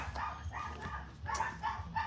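Puppies yipping and barking in a run of short, high little bursts, fairly quiet and slightly distant, with a few whimpery notes mixed in and no talking.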